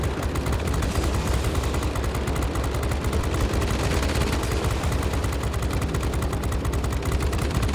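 B-17G bomber defensive guns firing at enemy planes in World of Warplanes, a dense continuous machine-gun rattle over a heavy engine drone, loud and unbroken throughout.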